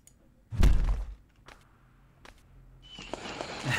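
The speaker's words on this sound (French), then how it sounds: "maintenant on teste les feux d'artifice" Fireworks are set off in the video game Return from Core: a heavy thump, a few scattered pops and knocks, then a rising fizzing crackle at the end.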